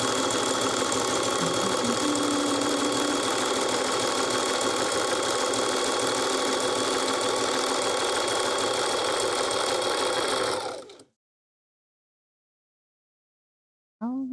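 Sewing machine stitching rope runs in a steady mechanical drone for about ten seconds, loud and close, then stops abruptly, leaving silence before a brief sound at the very end.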